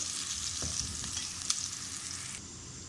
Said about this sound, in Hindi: तेल में हमने एक प्याज दरमियाने साइज का काटा और इसको हम फ्राई करेंगे